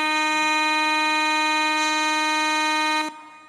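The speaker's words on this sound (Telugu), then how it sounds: "ఇది కరెక్ట్ హారన్ గైస్, ఇది సెకండ్ హారన్." A train's second horn sounds as a loud, steady, sustained blast lasting about three seconds before cutting off abruptly, with no talk over it.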